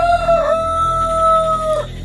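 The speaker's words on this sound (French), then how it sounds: "Avant que le coq chante 2 fois, tu me renieras 3 fois." A rooster gives one loud, close cock-a-doodle-doo, a long rising and falling crow lasting about two seconds, heard alone without speech.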